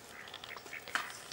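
A Canada goose gives a few soft, nasal honks and quacky calls close by, brief and irregular over faint background noise.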